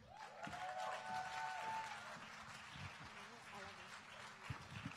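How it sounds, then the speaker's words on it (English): Audience applause for two performers at a creative-arts event, a steady broadband patter of clapping lasting the whole stretch while a voice and a sustained musical tone sound at the start. "Give a round of applause for Shamel and Deshawn."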